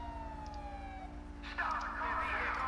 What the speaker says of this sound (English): Let me swap my siren.